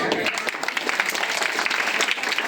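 Audience clapping at a Hindu religious gathering for the installation of a Hanuman idol, a dense, steady patter of many hands close by, with a voice speaking over it.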